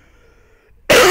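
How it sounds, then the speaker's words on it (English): A single loud, harsh cough bursts in close after a near-silent stretch during a Legend of Zelda: Phantom Hourglass play session. "got a cough coming"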